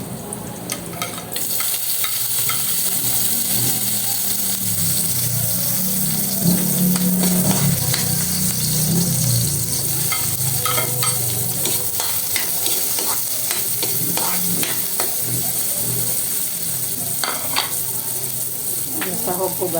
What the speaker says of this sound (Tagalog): So, ginisan pagluto ko nito.